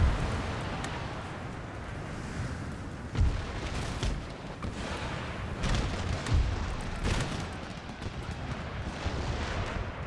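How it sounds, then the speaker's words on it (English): Enemy cannons in the strategy game Empire: Total War boom repeatedly across a dense battlefield din, with several sharp, spaced blasts standing out over continuous rumble and distant gunfire. "Oh, those cannons. Those enemy cannons,"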